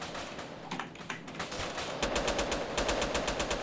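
Rapid gunfire from the video game Grand Theft Auto, in the Extreme Indonesia mod, strongly clicking bursts that turn into a steady fast automatic rattle in the second half over a constant game background.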